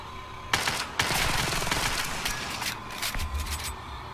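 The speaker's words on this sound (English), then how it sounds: "Get your pistol out, man. Well, dude, shoot with us," Gunfire in an online shooter game: a rapid, loud flurry of overlapping shots lasting several seconds, with sharp individual cracks near the start and end.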